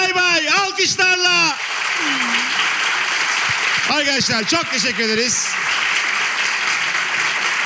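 A studio audience applauds steadily throughout a talk show, with a host speaking loudly over the clapping at the start and again midway.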